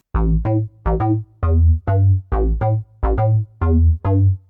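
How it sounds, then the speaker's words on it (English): A Korg Volca synthesizer deep house bass line plays alone: about eight punchy, deep notes in a steady, bouncing rhythm. "the bass line in original sounds something like this"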